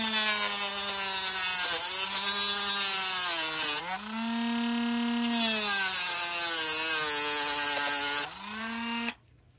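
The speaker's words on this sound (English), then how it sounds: "Need to grind it a little more. We want it flat." Steady, loud whine of a grinder flattening a metal wire connector during repair of a DeWalt 20V MAX DCE100 handheld blower, pitch dipping briefly under load twice before cutting off; no talking.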